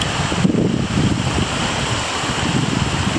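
Cold spring water pours out of a hillside at an Iowa spring, making a steady, close, broadband rushing wash that holds even for the whole stretch with no voices.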